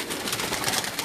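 Pigeons coo in a brief, soft burst against steady background noise.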